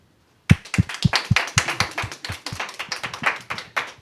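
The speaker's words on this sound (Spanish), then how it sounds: "Agradecemos a Juan Pablo Bonilla con un fuerte aplauso." Applause at a Catholic gathering after a sung hymn, starting abruptly after a short silence with a few sharp, distinct claps that thicken into scattered, moderately quiet clapping.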